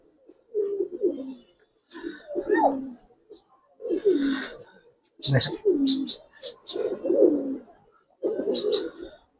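Pigeons of the Giribaj breed coo in repeated soft, throaty bursts, several calls in a row at close range with short pauses between them.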